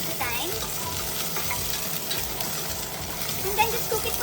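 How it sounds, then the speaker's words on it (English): Potato and carrot pieces frying and sizzling steadily in a pan while being stirred, a dense continuous crackle with occasional scrapes. "Stir your potato and your carrots from time to time."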